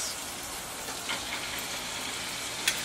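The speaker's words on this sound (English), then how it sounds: "We're gonna braise it from the fat side down." Beef short ribs searing fat side down in a hot pan give a steady, soft, hissing sizzle with a few faint pops, continuous and fairly quiet.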